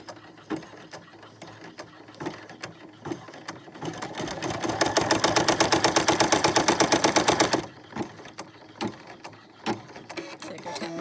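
A sewing machine stitches a mini notebook holder after a pause, running in a fast, even burst of rapid needle strokes for about four seconds, with quieter handling clicks before and after.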